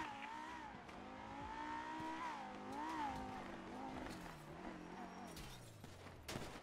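A car pulls away in the GTA video game, its engine revving up and shifting in pitch through a long acceleration, with crackling bursts of gunfire near the end.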